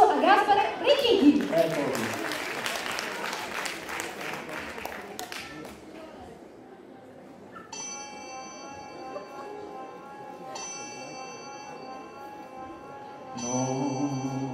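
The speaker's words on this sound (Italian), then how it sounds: "Facciamo un applauso adesso a Gaspare Ricchichi." An audience at a charity event claps in a burst of dense applause that fades over several seconds, followed by bell-like music tones.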